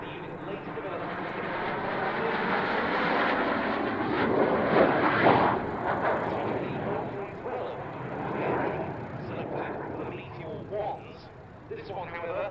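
A Gloster Meteor jet powered by a Rolls-Royce Derwent centrifugal engine gives off a steady, loud roar that swells mid-pass and then fades, heard beneath continuous talk.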